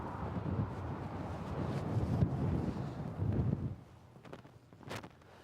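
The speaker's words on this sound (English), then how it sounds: "maybe we can figure out just how fast this wind is blowing" Gusty Oklahoma wind buffets the microphone in rough, rumbling surges that rise and fall, then ease into lighter rustling with a few brief bumps.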